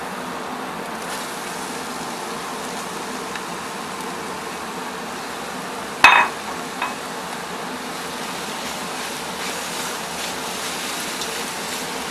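Onions, carrots and celery dry frying in a pot for cabbage soup: a faint, steady sizzle and hiss with one brief clatter of a utensil or added vegetables midway, no talking.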